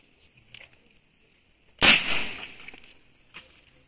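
A single sharp, loud crack from a high-powered airsoft gun rated around 1900 fps during a chronograph test, followed by a brief ringing tail, with faint background tones before and after.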